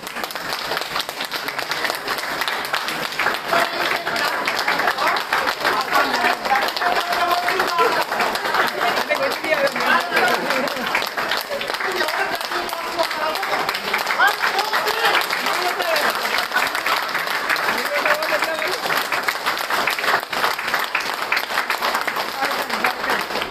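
A large audience at a marketing company gathering claps loudly and steadily, a dense continuous wash of applause lasting the whole stretch with no talk over it.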